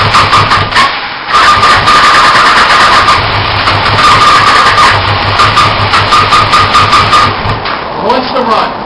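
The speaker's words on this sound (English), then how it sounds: "We'll try and start the bike." A motorcycle whose carburetors sat too long and need rebuilding cranks over and sputters, repeatedly trying to catch and run without settling into an idle. The engine noise is loud and close, with a person talking over it.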